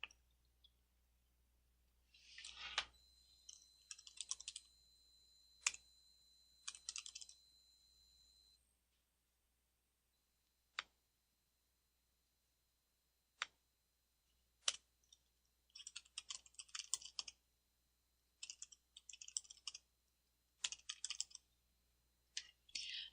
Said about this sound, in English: I'll type them so it's easier for you to read.